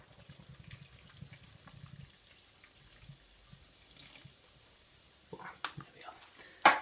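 Stout ale poured from a freshly opened container into a cooking pot for a beef and ale pie, a low liquid gurgle and splash early on, then quieter handling and a few sharp knocks near the end.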